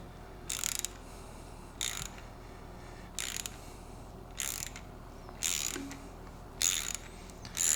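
A hand ratchet tightens the turbo studs on a 2JZ engine in a series of six short bursts of clicking, spaced a second or so apart, close and clear over a quiet background.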